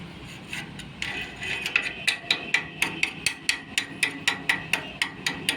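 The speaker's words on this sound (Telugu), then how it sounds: "ఇలా కొట్టేసి ఇలా ఇలా ఇలా మన స్క్రూ డ్రైవర్తో చాలా నీట్గా ఈ సిమెంట్ మొత్తం మనకి" A screwdriver is hammered against hardened cement to chip it away, giving a steady series of sharp metallic taps about three per second that grow louder and more regular, close up with no voices.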